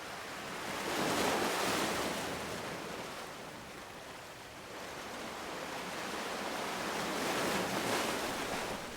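Ocean waves breaking at the tidal edge on the Northumberland coast, a continuous broad roar of surf that swells and recedes in slow surges, with wind buffeting the microphone and no voices.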